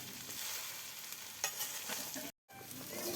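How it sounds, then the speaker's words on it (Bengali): Boiled potatoes being stirred and fried in spices in a pan, a soft continuous sizzle with scraping stirs, cut by one brief silent gap near the end. "আলুগুলো আগে ভাজি ভাজি করে নেবে।"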